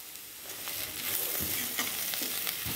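Potato fry sizzling gently in a pan on low heat, a steady close crackle with soft intermittent scraping strokes, no voices.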